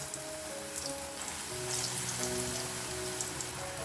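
Dough balls frying in hot oil over a low flame give a steady, soft sizzle and gentle bubbling crackle, close and continuous with no talking.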